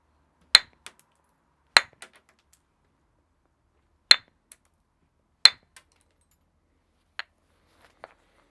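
Flint struck while knapping a Neolithic axehead, trimming flakes inward: sharp, glassy clinks come in spaced pairs and singles, a few loud and close, with quieter taps between and silence around them.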